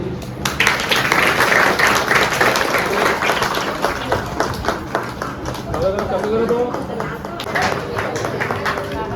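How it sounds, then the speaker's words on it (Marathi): An audience claps at a Bhim Jayanti celebration in Konkan, a steady crowd applause heard close and loud for several seconds, mixed with voices talking over it. "सर्वांनी टाळ्या वाजवा रे."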